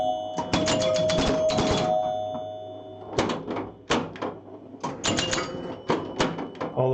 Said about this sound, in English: Score reels and chimes.